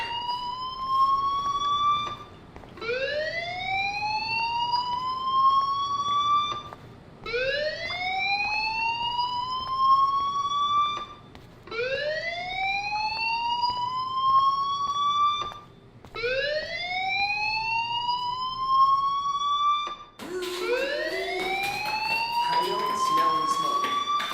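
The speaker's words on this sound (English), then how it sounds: "do you hear that fire alarm? That means you should be outside." A fire alarm in a video game sounds in repeated rising electronic whoops, six long sweeping cycles with short gaps, loud and close, ending in a harsher, noisier burst.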